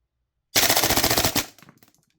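A Tokyo Marui MWS airsoft gun with a standard TM bolt fires one full-auto burst of about a second, around fifteen rounds a second, as a rapid, loud, even mechanical rattle that stops abruptly and then rings briefly.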